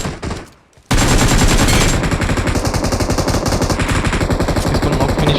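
Rapid automatic gunfire bursts loud and close while downing an enemy player in a PUBG-style battle royale on the Livik map, a steady rattling stream of shots after a brief quieter moment.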